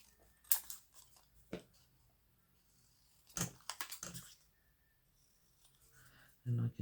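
Scissors snipping through vintage paper ephemera for a junk journal, a few sharp isolated cuts spread out with pauses, close and fairly quiet, a soft voice speaking in between.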